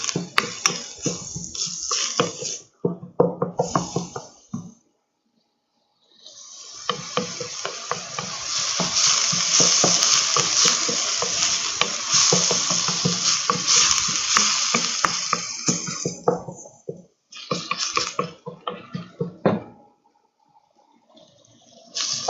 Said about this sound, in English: The next, we will put the rice and stir well the rice.